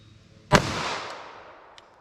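A single loud .45 ACP gunshot, fired into clear ballistic gel backed by MDF, cracks sharply and then rings out in a long decaying echo, with two faint clicks afterward.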